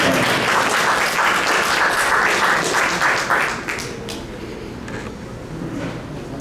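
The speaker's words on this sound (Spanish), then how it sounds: "Aplausos para Ricardo." An audience at a poetry event on César Vallejo applauds a reciter, full dense clapping for a few seconds that then thins and fades to scattered claps and room noise.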